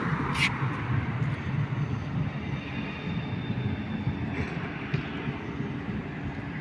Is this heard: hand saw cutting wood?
no